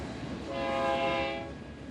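A container stack train rolls past with a steady rumble, and its horn blares loudly for about a second in the middle before fading back into the rolling noise.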